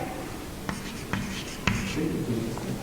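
A word being handwritten during a classroom vocabulary lesson, a few sharp pen or marker taps and strokes over a steady background hiss, with voices faintly present.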